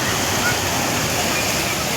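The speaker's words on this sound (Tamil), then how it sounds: "தொடர்ந்து 1 மாதமாக தண்ணி வந்துக்கிட்டே இருக்குது." Water pours from a natural village spring in a loud, constant rush of broadband hiss with no breaks, close and steady throughout.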